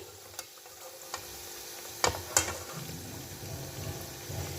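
Egg KFC-style pieces fry in a pan with a low, steady sizzle, broken by a few sharp clicks and clatters, no speech over it.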